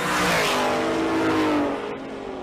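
Drag race between a Chevette and a Camaro at a drag-and-drive event, a loud, close engine roar with rising harmonics as the cars accelerate down the strip, sustained for a couple of seconds before easing off.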